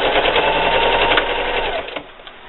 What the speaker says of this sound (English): So I'll take you over to the sewing machine and show you how it's done.